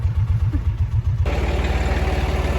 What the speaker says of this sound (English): I didn't even realize Wesley was on the tractor.